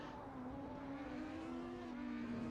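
A GT3 race car accelerating down the straight at Monza in a sim racing game: a steady, rising engine drone with a clear tonal whine, heard alone and fairly faint throughout.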